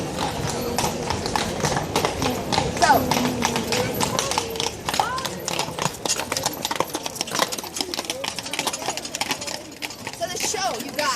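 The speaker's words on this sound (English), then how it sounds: "we've got a horse-drawn carriage coming around" Hooves of a horse-drawn carriage clip-clop steadily and close by on a street near an astronomical clock, the rhythmic clatter continuing throughout amid crowd noise, with someone speaking briefly over it.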